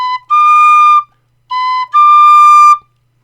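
A tin whistle plays the East Limerick Polka, vented, as clear, bright notes in two short phrases, each a quick pickup into a held tone, loud and close with a silent gap between.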